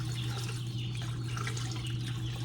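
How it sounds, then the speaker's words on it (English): About two quarts of water pour steadily into a crock pot with a continuous splashing hiss over a low, constant hum, and no one speaks. "So I'm putting about 2 quarts of water in,"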